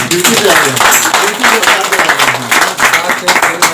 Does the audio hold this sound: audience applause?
yes